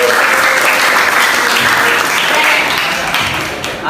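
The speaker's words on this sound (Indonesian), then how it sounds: "Oke, tepuk tangan semua." Students at a vocational high school in Jakarta break into dense, steady applause that fills the whole stretch, loud and close, gradually thinning toward the end.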